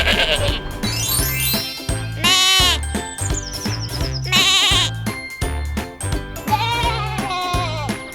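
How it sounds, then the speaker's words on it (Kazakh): A goat bleats in a series of wavering, repeated calls that rise and fall over a steady rhythmic backing, loud and close throughout. "Ешкі."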